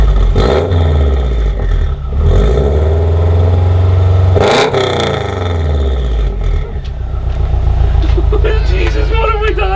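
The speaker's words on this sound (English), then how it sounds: "let's hear what it sounds like with a bit of revving" A Subaru WRX with a straight-pipe exhaust revs hard several times, loud, raspy bursts rising and falling with a rough, open exhaust rumble between them, close by.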